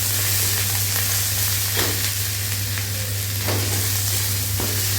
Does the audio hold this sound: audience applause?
no